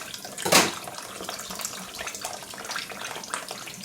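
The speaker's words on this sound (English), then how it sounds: "Just keep on dipping it back in the water." Pork neckbones are dipped and rinsed in a sink of water, with one brief, loud splash followed by quieter sloshing and trickling close by.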